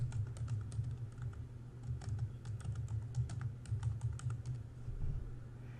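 Steady clicking of typing on a computer keyboard while entering login details for a Sunny Home Manager solar setup, a quiet run of keystrokes in irregular bursts over a low background hum, with no talking.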